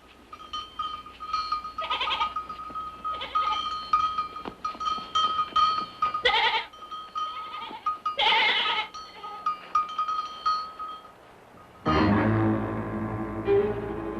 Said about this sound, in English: So does your smart little goat.